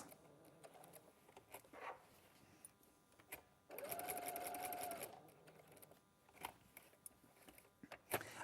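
A domestic sewing machine stitching through a quilt into its binding margin, heard as a steady, close mechanical whir for roughly a second and a half, with quieter handling and fabric rustle before and after.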